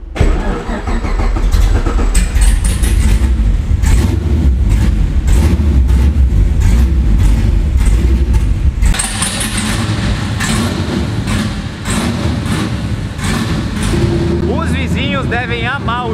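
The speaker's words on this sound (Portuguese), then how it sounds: "Olha a barulheira que esse carro faz." A naturally aspirated 500-horsepower V8 in a Japanese drift car rumbles loudly and steadily at close range, with repeated throttle blips and revving surges, while people talk over the engine noise.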